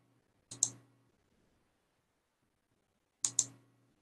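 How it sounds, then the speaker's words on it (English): A button is pressed during a lecture recording, giving two separate sharp double clicks a few seconds apart, close and crisp against near silence. "I pressed the wrong button."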